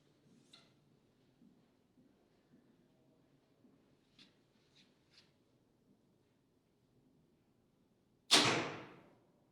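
Release of a Mathews Phase 4 compound bow, 2023 model, shooting an arrow at a target seven yards away: one sharp, loud thump near the end, preceded by quiet room noise and a few faint clicks.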